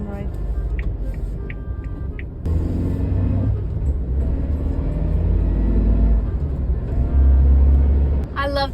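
Interior of a new Suzuki Jimny on the move, with a low engine and road rumble that grows louder and bumpier as the ride bounces, thuds and rattles under a woman's chatter.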